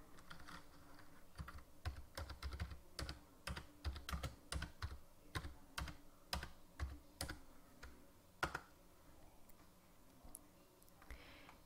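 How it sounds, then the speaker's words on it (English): Keys on a computer keyboard clatter in quick, irregular bursts as a search term is typed into craft design software. Sharp, close clicks with short pauses and no talking. "And then I'm going to type in birthday cupcake."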